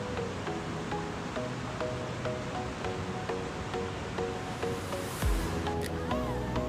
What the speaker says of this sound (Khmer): គាត់ក៏បានគេងស្ដាប់សំឡេងទឹកហូររហូតដល់គេងលក់បាត់ទៅ